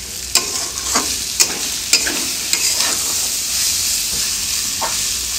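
Chana ghugni cooking in a pan, with a loud steady sizzle and hiss. A utensil scrapes through it in several strokes early on, then one more near the end. Close up, no speech.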